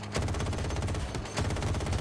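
Rapid gunfire from the video game Battlefield 2042, a dense burst of shots with a brief gap before a second burst, loud and close.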